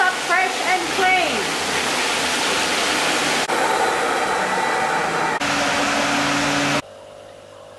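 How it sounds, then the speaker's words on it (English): A turbo hybrid tile cleaner, used in professional property cleaning, gives a loud, continuous hiss and rush of spraying water with a pump-like hum. The hiss cuts briefly mid-clip, then drops to a quieter drone near the end. "This is our powerful turbo hybrid tile cleaner. It does a fantastic job and brings the tiles up fresh and clean."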